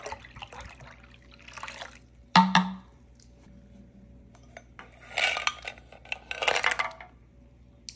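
7-Up lemon-lime soda is poured into a spooky punch, with a bright clinking splash, then stretches of fizzy, gurgling liquid pouring and trickling, quiet and close, with no talking.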